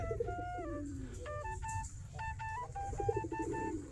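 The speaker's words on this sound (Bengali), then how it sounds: "আমাদের দেশে গিরিবাজ কবুতর।" Giribaz pigeons outdoors near their coop, with clear repeated tonal bird calls in short bursts over a steady low background rumble, moderately close and without talk.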